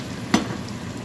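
Two large chopped onions dropped into a hot pan of oil, a short steady sizzle of frying with a single soft clack of a utensil, close up and without voices.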